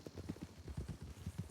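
Horse hooves clip-clop steadily during a ride, a quick, even rhythm of soft, faint, close thuds heard alone.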